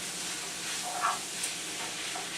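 Ground turkey meat and brown rice being stirred in a frying pan, a steady soft sizzle with faint scraping of the spoon, close and continuous.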